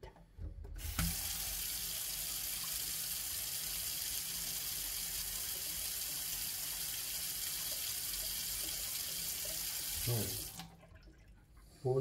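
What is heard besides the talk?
cold water running from tap while making apple pie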